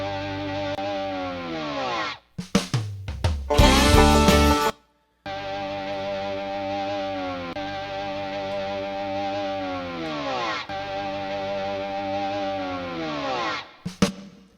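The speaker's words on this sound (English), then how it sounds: "That's too much reverb, but I was turning it down too much." A music mix swimming in heavy reverb, with long washy tails behind the notes and a loud, distorted burst partway through before the music resumes.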